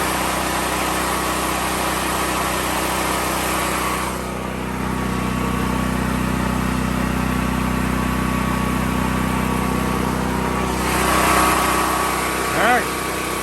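A Westinghouse generator engine running on propane drones steadily and close by, a continuous motor hum with a brief quieter dip partway through and a small rise near the end.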